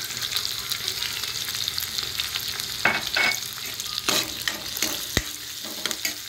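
Turmeric and spices stirred into a sizzling tempering for kadhi, a continuous hot frying hiss with scraping stirs and a few sharp clinks of the spoon against the pan, close and steady, no one talking.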